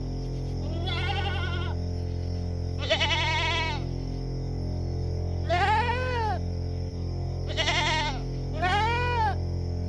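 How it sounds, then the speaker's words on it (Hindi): A goat bleats five times in wavering, nasal calls, spaced a second or two apart, over a constant low droning hum. "तभी दूर कहीं से बकरी की आवाज सुनाई दी।"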